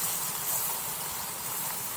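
Masala goes into a hot pan of sautéed mixture for pakoda kadhi, making a continuous close hiss of sizzling with no voices.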